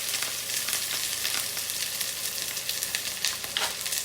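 Scallion, onion, garlic and thyme fry in a hot pan for ackee and saltfish, giving a dense, even sizzle with faint stirring scrapes, close and continuous throughout without any talking.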